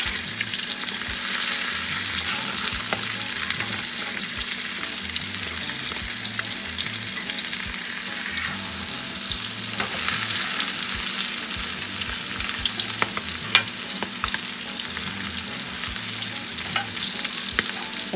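Mackerel patties sizzle steadily in a pan, a dense, loud crackling hiss that runs unbroken for eighteen seconds with a low rhythmic pulsing underneath and occasional sharper pops.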